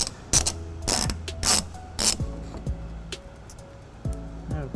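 A ratchet spins on a trailer hitch bolt during a hitch install on a 2012 Toyota Prius Plug-In, giving several short bursts of quick, loud clicking separated by brief pauses, close up with no talking.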